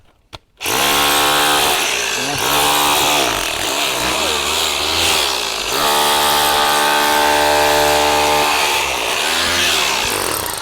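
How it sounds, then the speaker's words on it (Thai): Low-cost electric rotary hammer drill chiseling into cement, starting after a brief silence with a loud continuous buzzing hammer rhythm that wavers in pitch as pressure shifts, close and alone. "โอ้สกัดสกัดปูนแบบนี้เนี่ย มันสกัดได้ง่ายนะฮะ"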